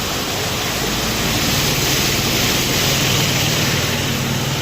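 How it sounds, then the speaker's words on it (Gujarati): Loud, constant roar of a flooded stream overflowing its banks during a thunderstorm in Palitana, a dense rushing wash with no pauses. "જો આ નેરું થઈ ગયું બે કાંઠે"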